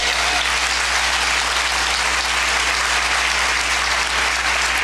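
A gala crowd at a fundraising event claps steadily, a thick, even roar of many hands sustained loud throughout with no voices standing out, over a faint low hum.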